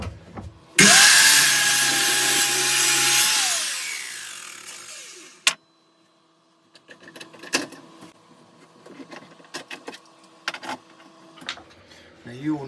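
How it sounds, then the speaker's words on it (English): A miter saw spins up and cuts through wood for a chopping board, a loud whining buzz that winds down, followed by faint knocks and handling noises in a workshop. "I'll just get it on the miter saw."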